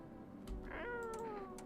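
A video game cat lets out a single drawn-out meow, rising then falling, heard alone over a steady low background hum.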